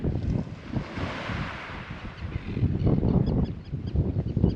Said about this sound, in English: The wind blowing through the seagrass.